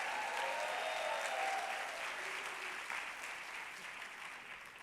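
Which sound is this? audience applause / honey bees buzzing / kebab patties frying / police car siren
audience applause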